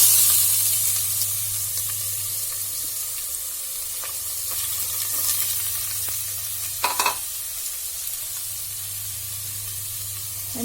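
Sliced onion frying in a pan of hot oil for tomato rice, a steady close sizzle with brief stirring scrapes partway through, no voices.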